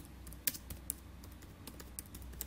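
Typing on a computer keyboard while working in MS-Word, heard as a few scattered, light key clicks at close range over a faint steady background hum, with no voices.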